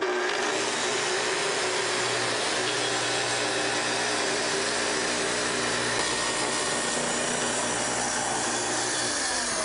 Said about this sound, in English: To make your cut, first start the saw, then plunge down to your depth setting and advance into the workpiece slowly.